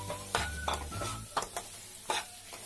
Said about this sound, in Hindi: घी देखिए हमारा गर्म हो चुका है, अब इसमें हम करीबन एक कप सूजी हमारी डाल रहे हैं। और कुछ धीमी धीमी आते हम भूनेंगे